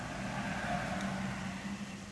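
Traffic noise from outside, heard as a constant low rumble and hum of passing vehicles, moderately quiet and steady, with no talking.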